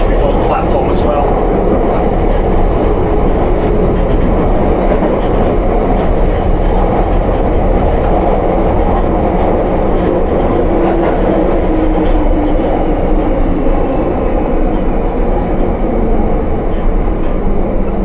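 A London Underground Piccadilly Line train running at night between Cockfosters and Acton, heard from the rear car: a loud, steady roar of wheels and motors with rhythmic clickety-clack over the rails, continuous throughout.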